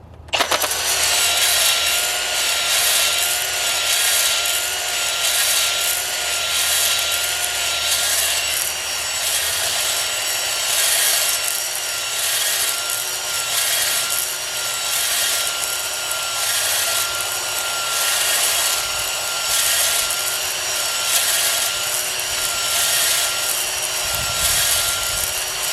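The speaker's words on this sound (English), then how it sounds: "We're going to shoot for about 30 seconds of honing and about 18 strokes or so." A spinning cylinder hone works inside a 7.3 IDI diesel engine block, making a loud, continuous abrasive whirring rasp with a regular pulsing as the tool strokes up and down the bore.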